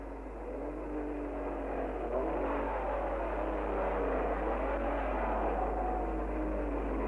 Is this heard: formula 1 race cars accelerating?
yes